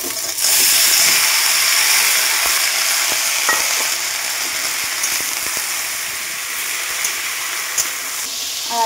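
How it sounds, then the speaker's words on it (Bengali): Vegetables tossed in with browned onion sizzle and fry in a pan, with steady loud hiss and scattered scraping stir strokes running throughout, no voices. "এবার সবজিগুলো দিয়ে দিই। পেঁয়াজটা ভাজা ভাজা হয়ে গেছে।"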